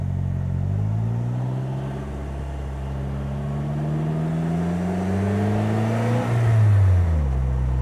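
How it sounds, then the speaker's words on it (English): A 2017 Polaris Slingshot accelerates on the road, its engine note climbing smoothly through a gear, then a quick shift and a deeper rising pull, heard from the cockpit with no talking. "Okay, back on the gas,"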